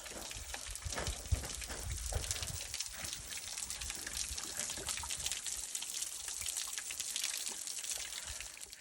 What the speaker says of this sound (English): 6 miles in, and we have this little waterfall.